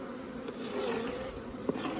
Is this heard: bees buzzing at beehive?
yes